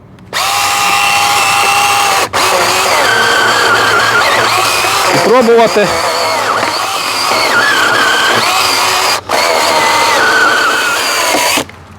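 A small Sequoia SBC2004M mini chainsaw runs loudly and steadily, its whine pausing briefly twice and dipping as it bites, with a voice speaking partway through.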